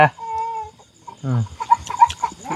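A farmyard chicken clucks loudly and close by, giving a drawn-out call followed by a run of short, choppy clucks, with faint voices in the background.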